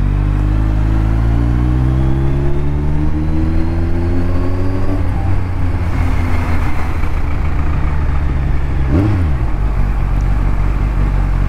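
A Kawasaki Ninja 1000SX inline-four motorcycle engine accelerates hard on an open road. Its loud, close, rising whine climbs through the gears with a shift midway and another drop later, under constant wind roar.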